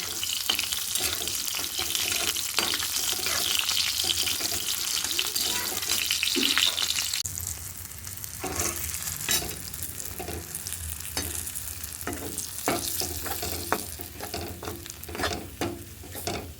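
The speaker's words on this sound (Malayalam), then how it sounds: "ചെറിയ ഉള്ളി, വെളുത്തുള്ളി, ഇഞ്ചി കൂടെ നന്നായി മൂപ്പിക്കുക." Shallots, garlic and ginger frying and sizzling in a pan, with a steady hiss, stirring clatter and utensil scrapes, then a quieter stretch of scattered clinks and a brief run of tap water.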